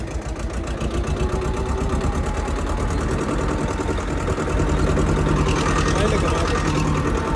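A tractor's diesel engine keeps running nearby in a steady, even rumble that grows slightly louder toward the end, with a voice speaking over it.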